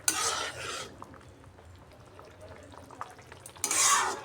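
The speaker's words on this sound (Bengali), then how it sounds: "ঢাকাটা সরিয়ে একবার নাড়িয়ে দিচ্ছি" Potatoes and greens being stirred in a pot, with a loud burst of scraping at the start, quieter clinks and rustles in between, and a second scraping burst near the end; no talking.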